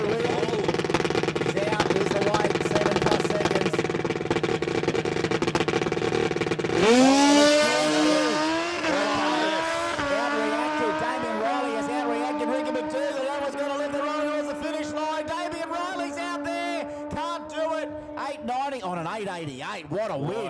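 A Suzuki Hayabusa drag bike launches at Warwick Dragway, its engine rising in a loud climbing wail through the gears and fading near the end, while an announcer talks throughout.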